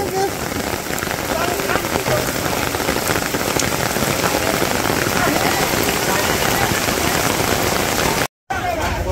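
Heavy rain pours steadily at a village market, a dense loud hiss of drops drumming on surfaces close by that continues almost without a break.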